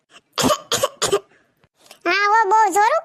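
Three sharp coughs in quick succession from a woman with a cold and viral fever, then a sustained, drawn-out voice follows after a short pause.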